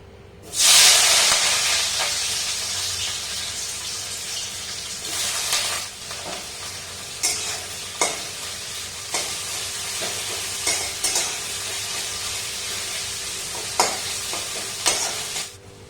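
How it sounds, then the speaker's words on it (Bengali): Chopped onions frying in hot oil in a wok for chicken chow mein, a loud steady sizzle and hiss with occasional scraping stirs, close by and with no talking. "পেঁয়াজটা ভাজা হয়ে গেছে হালকা হালকা।"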